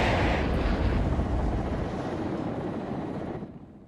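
A KA-50 Akula attack helicopter in the war game WARNO gives a loud broad roaring rumble close by, holding steady and then fading quickly near the end, with no talking.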